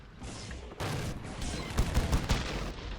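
Machine gun and artillery fire in a Warhammer 40k mod battle game, a dense burst of rapid gunshots with heavy booming impacts, loud and chaotic, starting after a brief quieter lead-in.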